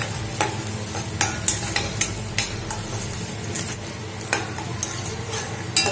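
Onions are sautéed and stirred in a pan for a bitter gourd curry, a close, constant sizzle broken by sharp spatula scrapes and taps against the metal at an irregular rhythm.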